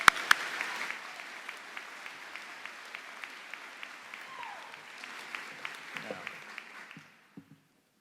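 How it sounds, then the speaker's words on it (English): A university convocation audience applauds graduates, a steady, moderately distant round of clapping that fades away near the end, with a few louder claps at the start. "And if I have one more round of applause for all of them"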